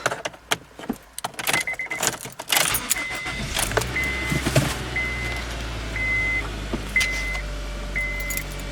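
A car's engine cranks and starts after its exhaust flanges are welded in repair, preceded by keys jingling and clunks, then a steady idle rumble with repeating warning chimes, close by.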